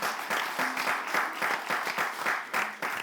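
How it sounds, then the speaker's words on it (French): An audience applauds to welcome Madame Reine Chakele, with dense, lively clapping that surges in waves for about three seconds, near and fairly loud. "Est-ce qu'on peut applaudir et accueillir Madame Reine Chakele,"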